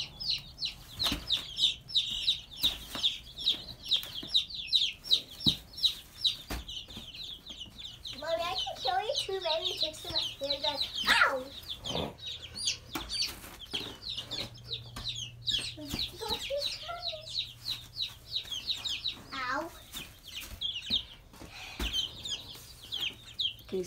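Baby chicks in a brooder keep up a steady, busy chirping and peeping throughout, with occasional clucking bursts, while a child and an adult talk over them indoors.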